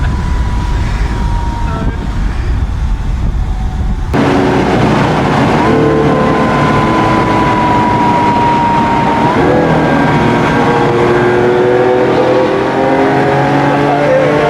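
A supercar engine revs loudly and continuously, its rising tones climbing through the gears and holding a steady, close, powerful drone from start to finish, with no talk over it.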